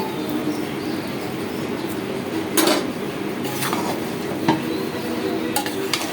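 Biryani being stirred in a pot after fried onions mixed with powdered milk are added, giving a steady scraping, shuffling texture with a few sharper spoon knocks against the pot, close and alone with no talk.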